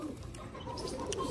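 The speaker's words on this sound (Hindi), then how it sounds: "ये अपने लाल कबूतर देखो" Red pigeon giving a brief, soft coo, faint and close, lasting only a moment against a quiet background.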